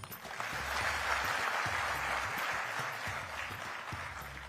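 An audience applauding for a district collector's birthday at a Gujarat government event, with dense, sustained clapping from a large crowd and a faint low rhythmic sound beneath it.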